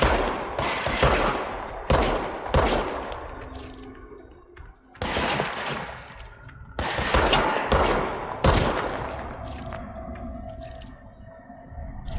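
Gunfire from a gun in the video game Control, with loud, sharp shots fired in bursts and quick volleys between short pauses and echoing decays, plus some low rumbling effects in the background.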